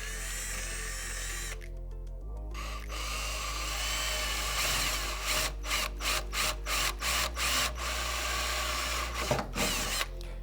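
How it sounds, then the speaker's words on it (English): A power drill with an 11/64 inch bit drilling out a snap while fitting zipperless upper doors on a Polaris RZR, a loud steady whine broken by a series of short rhythmic bursts and stops. "So for us, we're using an 11/64 inch drill bit. And just make sure when you're drilling through"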